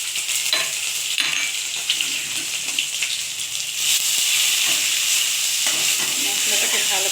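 Whole cumin seeds sizzle steadily in hot oil left over from frying chhana fritters in a kadai, a dense continuous crackle with faint scraping, growing slightly louder partway through and heard alone.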